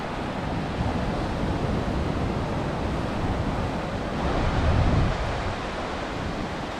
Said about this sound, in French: Et voilà, l'océan.